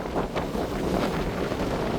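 Strong wind gusts buffet the microphone by the sea in Jaffna during a severe cyclone, a loud, continuous roar with surf rolling underneath.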